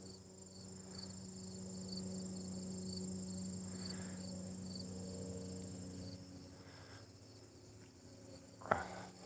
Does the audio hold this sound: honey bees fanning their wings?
yes